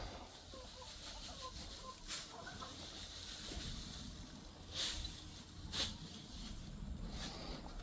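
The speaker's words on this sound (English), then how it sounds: "Watch out, chickens coming through." Chickens cluck softly on a small farm near the pigs, with scattered faint clucks and a few sharper calls over quiet, rustling background noise; a voice speaks briefly.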